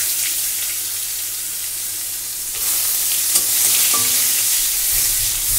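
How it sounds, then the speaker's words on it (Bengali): Chopped onion sizzling in hot oil with bay leaves in a home kitchen pan, a steady broad hiss that swells louder partway through, with a few faint clinks of a utensil and no talk. "এটা এবার দিয়ে দেবো এর মধ্যে কুচনো পেঁয়াজ,"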